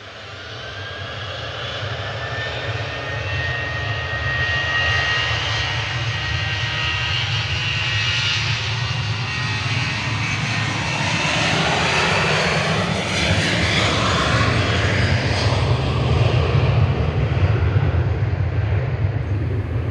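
A jet airliner on flight 191 to Belfast departs Manchester Airport, its engines building into a loud, broad roar that grows steadily and stays strong throughout, with no voices.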